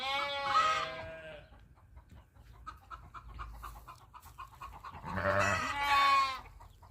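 Freshly shorn goats bleat in two loud, nearby calls, one at the start and one near the end, with quieter farmyard rustle and faint chicken noises between them.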